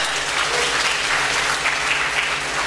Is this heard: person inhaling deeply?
no